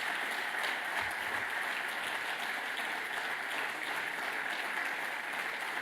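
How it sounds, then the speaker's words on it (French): Loud, steady applause from an audience of football club members at a live federal label awards ceremony in Alsace, a dense unbroken wash of clapping filling the whole stretch. "j'ai demandé à toutes les personnes, tous les clubs et tous les membres du Crédit Agricole qui sont là de s'applaudir très fort"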